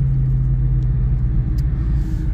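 A car engine revs gently as the gas pedal is touched, a steady low rumbling drone that stays even and close with no talk over it.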